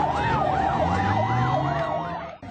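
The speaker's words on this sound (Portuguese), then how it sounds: "A situação ficou um pouco complicada quando foi preciso abrir passagem para uma ambulância" An ambulance siren wails in a steady rising-and-falling cycle, loud and close, over low traffic rumble, while a vehicle makes way for it in a Belo Horizonte–area neighbourhood; the sound drops sharply right at the end.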